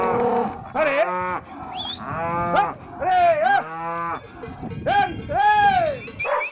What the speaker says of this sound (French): le sevrage c'est très dur parce que les vaches vont pleurer longtemps